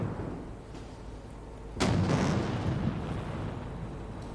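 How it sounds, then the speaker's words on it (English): A single heavy boom from the gun salute at a military victory parade, sharp onset followed by a long rolling echo over a constant crowd and wind hum. "Fired the gun salute."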